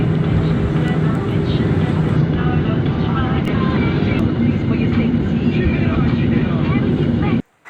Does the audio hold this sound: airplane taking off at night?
yes